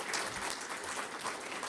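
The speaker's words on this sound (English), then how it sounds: "I request all of you to just take a big round of applause for all of them" Audience at a technology project launch event giving a brief round of applause, a soft, even patter of many hands clapping at a distance.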